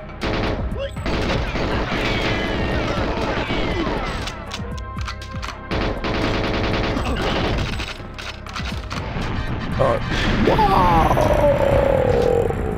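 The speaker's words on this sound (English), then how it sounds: "Was that explosion?" Gunfire and a blast ring out in the Goldeneye 007 video game, with rapid bursts of shots and crashing impacts, loud and busy, ending in a sharp explosive burst with trailing debris.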